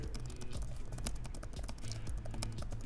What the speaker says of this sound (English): It is pretty interesting though to type on like a angled keyboard on a laptop